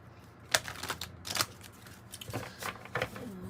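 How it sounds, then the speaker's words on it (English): A tarot card deck is shuffled close by, with several crisp riffling bursts and soft card slaps at irregular intervals and no talk. "Get a little shuffle going on here."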